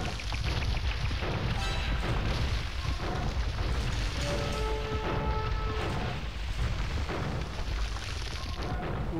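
Continuous heavy booming cannon fire from elite cannon galleons in a real-time strategy game, attacking buildings, dense overlapping blasts and rumble, sustained and loud throughout, with faint tonal game sounds mixed in.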